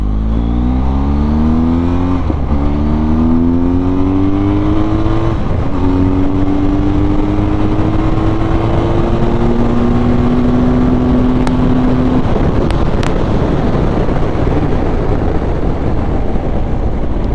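A BMW R1250 GS motorcycle being ridden accelerates steadily, its engine pitch rising through the gears and then giving way to a loud, continuous rush of wind.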